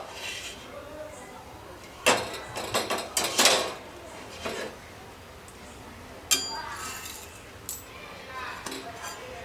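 A pan lid lifted off a cooking kulcha flatbread gives a few sharp metallic clinks and clatters close by, then two lighter knocks later on, over faint room noise.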